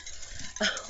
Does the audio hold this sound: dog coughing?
yes